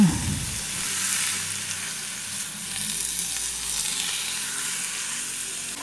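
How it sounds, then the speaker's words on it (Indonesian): Small pieces of buffalo meat sizzle and fry with a spice paste while being stirred, a close, loud, continuous crackle with occasional scraping and no voices. "lalu masukkan dagingnya yang sudah dipotong kecil-kecil. Kemudian aduk hingga bercampur rata."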